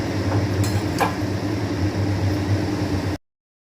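Cabbage being stirred in a pan for a curry, with a few light metallic clinks of a utensil against the pan over a steady kitchen hum, continuous and close.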